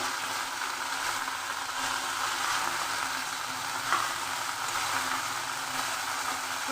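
Cauliflower frying in a pan for a light chicken and cauliflower curry gives a steady, close sizzle with soft crackles, continuous throughout and with no talking.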